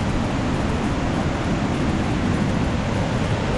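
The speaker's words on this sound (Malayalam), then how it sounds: "കേട്ടോ ഭയങ്കര രീതിയിലുള്ള ഒരു വെള്ളച്ചാട്ടമാണ്." A heavy waterfall in the Anakulam forest near Mankulam roars in a steady, loud broadband rush with no breaks or voices.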